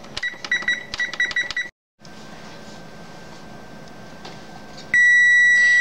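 A kitchen timer chirps in a rapid series of short, bright beeps, then goes quiet under a low room hum before bursting into a loud, sustained electronic beeping tone close by.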